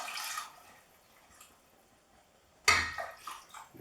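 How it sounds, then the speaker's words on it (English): Vegetable stock and hot water poured into a risotto pan of butternut squash rice, a soft liquid trickle at the start, then a sharper splash and sizzle as it hits the hot pan near the end. "So now we can add our stock."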